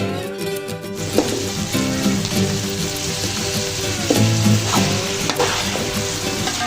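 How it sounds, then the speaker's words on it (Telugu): A kilogram of peeled, cut potato pieces going into onions frying in oil for a tomato potato kurma: a loud, steady sizzle with a few sharp scraping knocks near the start and middle. "ఇప్పుడు దీంట్లో పొట్టు తీసుకొని కట్ చేసుకున్న ఒక కేజీ ఆలుగడ్డ ముక్కలు వేసేసుకుంటున్నాను"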